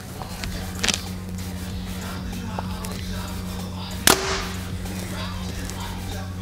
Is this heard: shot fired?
yes